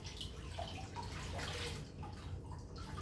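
A thick floor cloth is dipped in a bowl of sea-salt water and lifted, water splashing and trickling off in a close, soft, continuous dribble.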